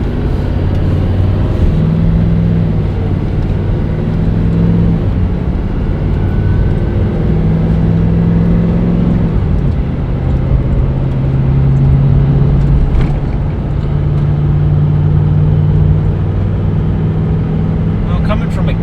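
A 2020 Chevy 3500 dually diesel truck towing a trailer accelerates onto an interstate, its engine drone loud and continuous with rising tones as gears shift, while people talk inside the cab.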